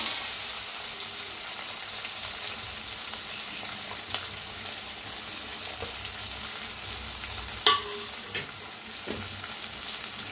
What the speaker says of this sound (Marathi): तेल चांगलं गरम झालंय। अर्धा चमचा मोहरी, अर्धा चमचा जिरं, थोडं हिंग, बारीक कापून घेतलेला 1 कांदा